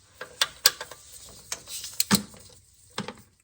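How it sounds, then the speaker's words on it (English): Torque wrench ratcheting while tightening a bolt on a Toyota 2JZ engine during an AC compressor replacement, a series of irregular metallic clicks and clacks up close, with short gaps between strokes. "Now what you want to do is torque this to 38 foot-pounds."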